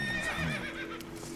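A horse in The Witcher video game gives a single short, loud whinny with a wavering pitch, heard close up.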